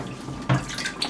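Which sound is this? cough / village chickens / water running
water running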